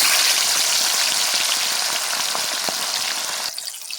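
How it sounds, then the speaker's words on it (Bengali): Chicken pieces frying in hot oil for biryani give a dense, close sizzle with crackling pops that softens and thins near the end, with no one speaking. "দিয়ে দিয়েছি, লাল লাল করে আমি ভেজে নেব।"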